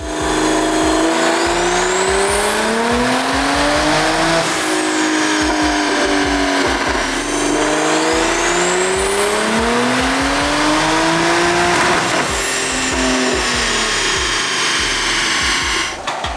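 Toyota A90 Supra with a big-turbo stock B58 engine roaring on a dyno with its wheels spinning, loud and close, revs sweeping up and down through repeated pulls over a steady mechanical whine.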